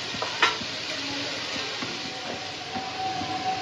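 Onions salted and frying in a pan sizzle steadily with a soft hiss, broken by a few scraping stirs of a spoon, close and moderately quiet with no voices.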